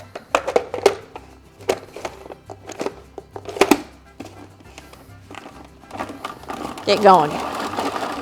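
A hand-pulled food chopper dices onions into small pieces with repeated sharp clacking strokes coming in quick bursts, while a voice talks over and between them.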